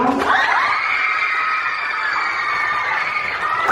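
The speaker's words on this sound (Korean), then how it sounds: "여러분의 뜨거운 박수와 환호 부탁드릴게요" A crowd of girls at a middle school lecture greets a youth-instructor speaker with loud, sustained high-pitched cheering and shrieking that holds steady for several seconds before tapering off.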